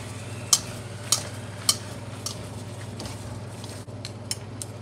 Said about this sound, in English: This is the boiling, then we stir fry again.